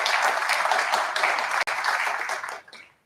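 Loud audience applause at a state Capitol event, steady dense clapping that fades out near the end.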